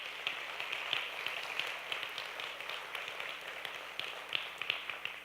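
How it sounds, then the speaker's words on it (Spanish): A church congregation claps during a sermon, producing a faint, distant patter of many hands with scattered sharper claps, steady for several seconds without talking. "Dale un fuerte aplauso a Dios por eso"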